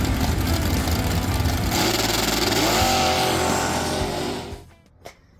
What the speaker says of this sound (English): If you got a twin cylinder mower engine and it's sounding like this, means you're running on one cylinder